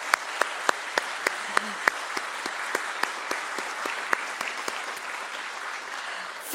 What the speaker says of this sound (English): thunderous round of applause